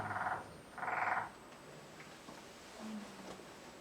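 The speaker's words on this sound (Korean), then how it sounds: "곰개구리." Two short bursts of low, rattling croaks from a Korean bear frog close together, followed by quiet background with faint distant calls.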